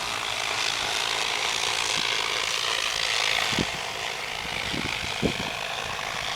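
A steady propeller drone hum fills the air while an agricultural spray drone sprays organic repellent over an alfalfa field, with a few soft thumps and rustles close by.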